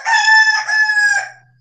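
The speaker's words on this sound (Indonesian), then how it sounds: "Suara ayam." A rooster crows once, close and loud, a bright, full cock-a-doodle-doo lasting over a second before it cuts off into near silence.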